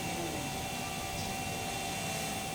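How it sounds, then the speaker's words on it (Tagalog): A drone flies at the Asul Private Resort in Calamba, Laguna, giving off a steady, continuous motor whir with a faint high whine that holds even throughout, with no talk. "Ang galing naman ng drone."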